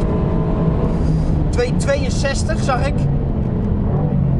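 A 2019 Mercedes-AMG GT R Pro at full throttle down a track straight, its engine a loud, steady low roar heard from inside the car while someone talks over it.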